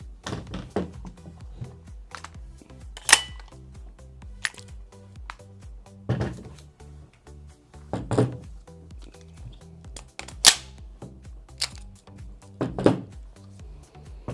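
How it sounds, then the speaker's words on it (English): An airsoft gas magazine for a TM MWS-compatible rifle seats and drops free, giving a series of sharp plastic-and-metal clacks and thunks spaced a second or two apart, close and fairly loud with no talking. "the magazine seats and free drops cleanly"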